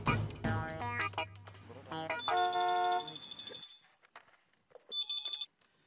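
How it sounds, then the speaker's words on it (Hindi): A telephone rings with a bright, tonal electronic melody that comes in bursts, with quieter gaps between the rings. "नंटू काका को फोन करके कहती हूँ कि वो लगातार झुमरू बाबा को फोन करते रहा।"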